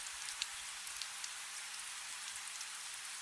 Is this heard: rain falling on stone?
yes